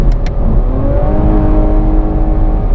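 A 2017 Chevrolet Camaro V6 accelerates hard after a downshift into third gear, the engine giving a loud, close, continuous roar with a steadily climbing pitch and no voices over it.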